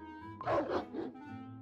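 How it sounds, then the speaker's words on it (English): A wolf in the Crème Republic video game gives a short burst of about three quick barks, close and clear over a faint steady background tone. "Why all the barking?"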